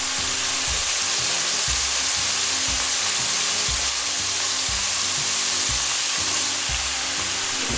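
Calamari dusted in flour fries in hot oil, a loud, dense, continuous sizzle and crackle with a faint rhythmic thumping underneath, running steadily with no voices.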